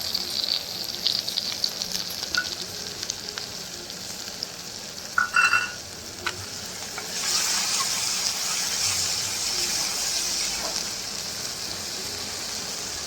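Fenugreek seeds sizzle in hot oil for a steady frying hiss, sharpening briefly with a few crackles as they hit the pan, then settling into a continuous, moderately loud sizzle with no voices.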